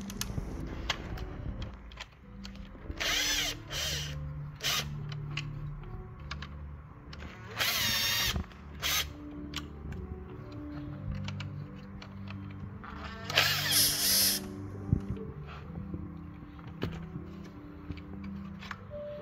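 A power drill runs in several short bursts, loud and close, while backing out Phillips screws on a Toyota Prius main switch, with quieter clicks and handling noises between bursts.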